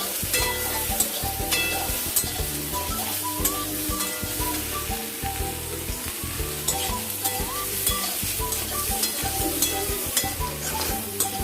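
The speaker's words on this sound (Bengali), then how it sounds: "দিয়ে এটাকে ভালো মতো করে ভেজে নেব।" Potatoes frying in a pan with turmeric and salt, a constant close sizzle broken by rapid rhythmic stirring scrapes and clinks of a spatula against the pan.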